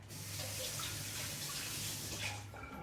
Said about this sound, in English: Let me rinse off my fingers for a minute.